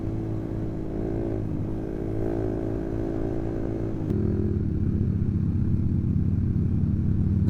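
A Suzuki Satria FU FI motorcycle fitted with an Open Looper Pro runs close by with a steady, throbbing idle, then the engine note drops and deepens halfway through and keeps burbling loudly.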